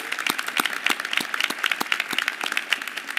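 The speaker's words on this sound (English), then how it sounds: "Let's give her a round of applause." An audience claps steadily at a regional career signing day event in Philadelphia, a dense patter of many hands applauding at a moderate distance, continuous throughout.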